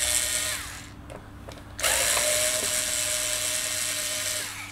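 Power tool working screws out of the pickup on a vintage Japanese Rickenbacker-clone guitar, a steady whirring drill tone that drops out briefly, then resumes louder and continuous, close up with no talking.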